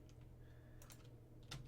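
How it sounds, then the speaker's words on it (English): Fingers tapping a computer keyboard, a few faint quick keystrokes in close succession over a low steady hum. "Typing is hard."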